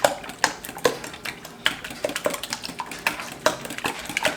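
Eggs whisked with salt, pepper, red pepper flakes and a splash of milk in a bowl, with a fast run of close clicking and tapping strikes against the bowl, steady and fairly loud, with no voices.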